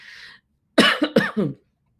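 A short burst of coughing, three or four harsh, closely spaced coughs, close and loud after a brief faint sound and a pause.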